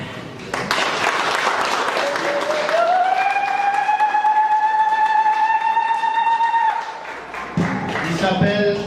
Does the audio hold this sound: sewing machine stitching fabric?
no